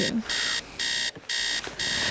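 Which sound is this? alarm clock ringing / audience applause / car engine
alarm clock ringing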